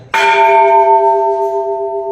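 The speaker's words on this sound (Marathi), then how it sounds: "ये छः मन का घंटा छः मन का घंटा है" A large temple bell weighing six maunds is struck once at the Chandreshwar Mahadev shrine. It rings out loud and close, then hums with a long, steady sustained tone.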